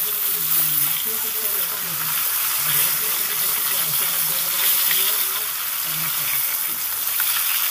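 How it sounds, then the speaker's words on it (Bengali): Pieces of rohu fish fry in hot oil for a Bengali fish curry, a steady close-up sizzle with a dense hiss throughout and faint low background sounds underneath. "আরও 4 পিস মাছ আমি তেলে দিয়ে দিলাম।"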